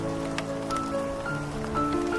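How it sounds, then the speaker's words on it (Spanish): Soft, steady rain patters on a surface throughout, a continuous gentle hiss blended with sustained tonal sounds in the background. "el tenue sonido de la lluvia"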